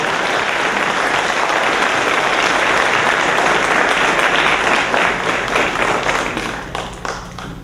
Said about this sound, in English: Let's give both these gentlemen a round of applause.